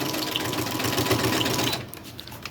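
A sewing machine stitches paper ruffles in a fast, steady whirring burst that stops abruptly near the end, leaving quiet.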